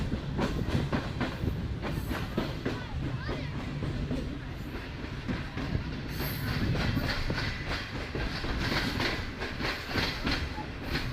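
A passenger train in Pakistan, the 33UP from Hyderabad toward Rohri nearing Nawabshah, rolls on rails with a loud, continuous rumble, rhythmic clickety-clack of the wheels and occasional squeals, heard from on board.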